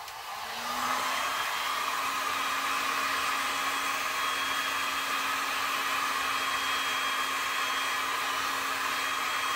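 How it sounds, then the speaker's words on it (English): A heat gun with its heat turned up blows over alcohol inks on a tile, a steady loud whooshing hum with a faint constant whine that starts within the first second and runs without a break, with no voices. "I'm going to check real quick to see if the heat gun does it a little bit better"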